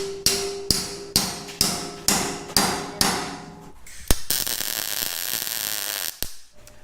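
A hammer slams steel to bend it on a large off-road wrecker build, with seven or so loud, evenly spaced ringing blows, then a sustained metallic rattle and a final sharp strike, close by and without talk.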